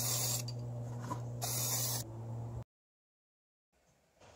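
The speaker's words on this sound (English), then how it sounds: "we need to spray them with scan spray" Scan spray hisses in two loud bursts onto shiny dentures being prepared for 3D dental scanning, with a steady low hum underneath, then silence and faint noise.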